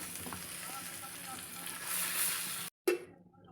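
Green chillies (mirchi) fry in hot oil with a soft, steady sizzle, followed by a brief cut and a clink of a utensil.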